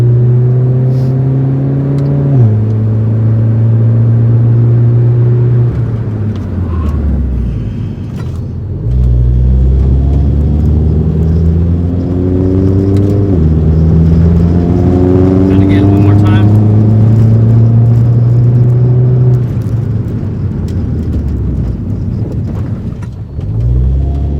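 An R56 Mini Cooper S with EBC YellowStuff brake pads, driven hard during brake bedding: the engine revs up through repeated gear shifts, dropping and climbing again, loud and close inside the cabin.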